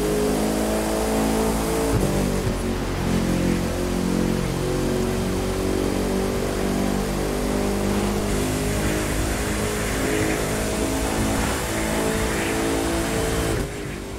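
Bugatti Divo in the racing game The Crew 2 accelerates hard, its engine note climbing in repeated rising sweeps through gear changes, loud and continuous with no talk.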